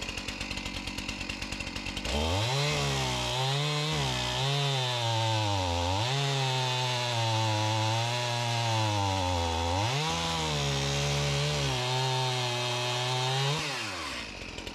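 Chainsaw cutting roots off a tree stump, the loud close engine bogging and rising repeatedly as the chain bites into wood, after a brief idle at the start.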